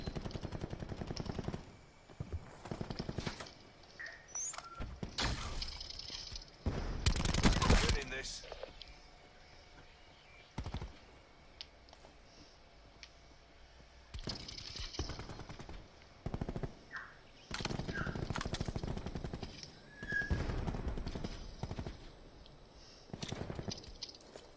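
Bursts of automatic and single gunshots in an online shooter, coming in rapid clusters separated by quieter gaps, some sharp and loud, others more distant, with occasional voices over them.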